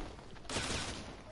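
Gunfire strikes the player in a video game: a sudden burst of harsh, rattling shots lands mid-clip, loud and close, then continues as a dense crackling spray over a noisy background.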